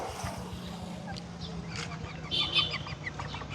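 A chicken clucks briefly and nearby in a home setting, short bursts over low background noise.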